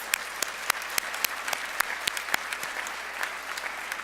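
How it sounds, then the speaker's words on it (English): Graduates clap at a school graduation ceremony, a steady patter of many hands with sharp individual claps standing out, moderately close and alone without voices. "Give yourselves a round of applause."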